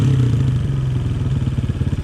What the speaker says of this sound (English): it's a slow revving bike, but to me it still sounds like there's a little bit of a hanging idle